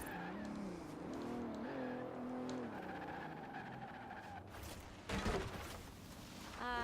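Bentley in Forza Horizon 4 braking hard at speed, engine note dropping as tires squeal and skid, close and loud, ending with a harsh scraping burst.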